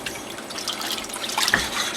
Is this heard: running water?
yes